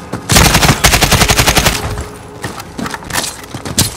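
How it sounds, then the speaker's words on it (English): Machine gun fire in Call of Duty Modern Warfare 2019: a loud, rapid stream of shots for about two seconds, then a few scattered sharper bursts with quieter gaps. "Альцер, shoot the left."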